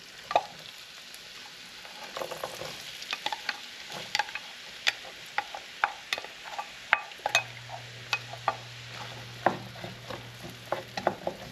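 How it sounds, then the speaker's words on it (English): Chopped celery and onions sauté in melted butter, giving a steady close sizzle, with repeated sharp clicks and scrapes from stirring throughout. "Now I'm gonna add my pre-cut celery and onions. They're already pre-cut. I'm gonna add those right to the melted butter."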